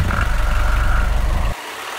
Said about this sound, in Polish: Poli napędzana jest wtedy 75-konnym dieslem i 17-calową składaną śrubą.